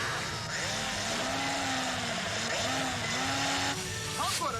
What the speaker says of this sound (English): that machine is drilling right through any kind of obstacle, if it is concrete or